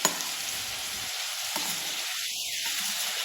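Chopped onions and tomatoes sizzle steadily in a hot pan on a gas flame for a paneer masala, with a constant close frying hiss and faint stirring.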